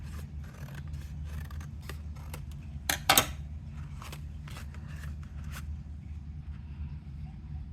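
Scissors trim a craft kit piece in a few quick close snips, a sharp cluster of cuts standing out over a quiet low room hum.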